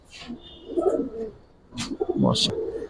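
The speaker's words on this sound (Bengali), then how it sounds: "দুইটাই কবুতর দেখেন ফুল জাপরা কবুতর" Jabra pigeons, a pair of old-breed Bengali birds, give close throaty coos in two bursts separated by a brief pause, with a faint voice in the background.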